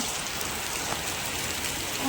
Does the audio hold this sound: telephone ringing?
no